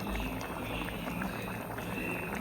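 Sambar bubbling at a steady boil in a pot on a home stove at night, a continuous close simmering hiss and bubble with no talk.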